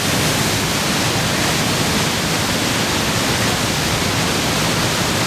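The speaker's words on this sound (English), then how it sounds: "the first waterfall of today." A waterfall in North Carolina roars with a steady, dense, broadband rush that stays constant and loud throughout, with no voices.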